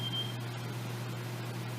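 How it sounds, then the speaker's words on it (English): An electronic alarm gives a single short high beep at the start, then stops, leaving a quiet room with a low steady hum. "Sorry, my alarms."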